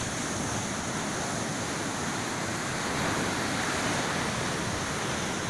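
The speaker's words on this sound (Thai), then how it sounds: "คลื่นใหญ่มาก" Large, powerful ocean waves break on a sandy beach at Khao Phlai Dam, Sichon, Nakhon Si Thammarat, making a steady, loud roar of surf with wind noise across the whole clip.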